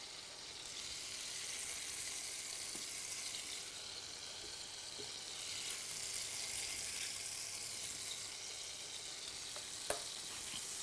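Hake steaks sear in a frying pan with a steady, close sizzle that holds level throughout, joined by faint stirring scrapes and a single sharp click near the end.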